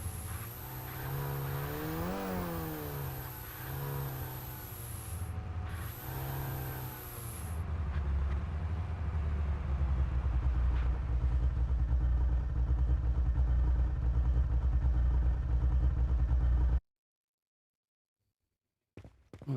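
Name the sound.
V6 car engine running and revving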